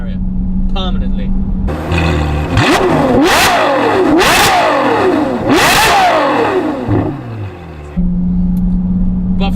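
Novitec N-Largo Ferrari F12 engine blasting through repeated loud revs, rising wails and sharp drops between them, with a lower idle drone before and after.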